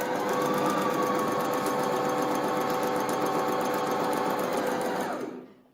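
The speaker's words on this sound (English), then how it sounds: "Then we'll start pedaling. You will get like this. So don't press this one, just hold it. You will get the stitches." A pedal-operated sewing machine runs a straight line of stitches in a steady, loud, close whir for about five seconds, then winds down and stops.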